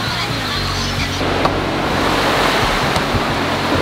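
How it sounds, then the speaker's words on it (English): Rainwater pours off a sagging, overloaded farm tarp after pooling on it, a steady rushing wash of water that stays loud and close throughout. "You can see just how much water is gushing off of there."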